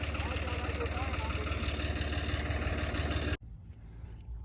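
A farm tractor engine idles with a steady, close low rumble that cuts off abruptly near the end, leaving faint background sound.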